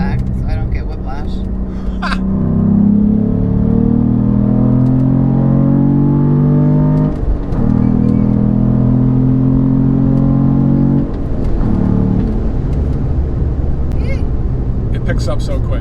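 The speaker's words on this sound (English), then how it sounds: "I would do a little second gear rippage over here." A Cadillac CT4-V Blackwing engine pulls hard in second gear, its loud, steady drone climbing in pitch for several seconds before easing off, then building again.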